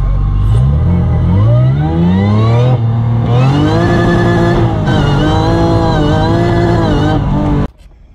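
A supercharged J32A2 V6 in a Toyota MR2 revs hard from inside the car, its pitch climbing through several upshifts in loud, rising sweeps before cutting off abruptly near the end.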